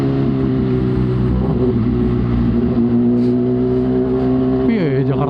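Motorcycle exhaust recorded on the move through Jakarta traffic, a loud steady engine drone that shifts pitch as the throttle changes, with a voice talking over it.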